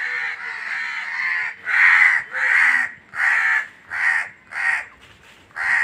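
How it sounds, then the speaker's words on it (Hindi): A crow caws loudly and repeatedly, a long run of harsh, evenly spaced calls close by, with no voices over it. "क्या कह रहे कौवा।"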